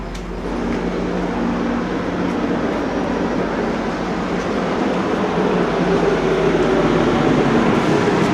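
A GO Train at Toronto Union Station on a lightly rainy day, its steady low rumble and hum filling the space at close range, holding an even, continuous drone with no voices.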